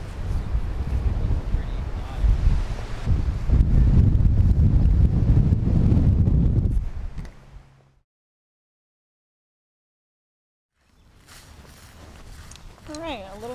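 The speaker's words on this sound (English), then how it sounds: "Yep, getting windy." Strong wind buffeting the microphone at an urban lake during stormy summer fishing, a loud roaring rumble for several seconds that cuts to silence, then quieter outdoor sound returns with faint high chirps.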